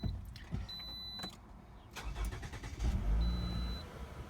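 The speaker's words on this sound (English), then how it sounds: "First, let's start up the car again." A 2011 Toyota RAV4 Limited starts up: a few clicks and cabin sounds, then the engine cranks and catches into a low, steady idle, close and fairly quiet.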